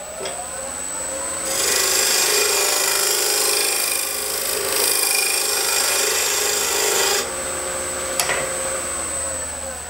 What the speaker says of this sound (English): Let's just kind of scrape that just a little bit.